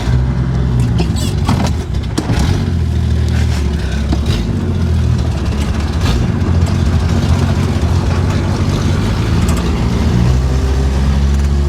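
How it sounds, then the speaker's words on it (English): A 1969 Chevrolet Nova four-door with its original 250ci inline six cranks and catches, then settles into a loud, steady, rumbling idle close by, with a few brief blips along the way. "I'm gonna fire up the car here for you"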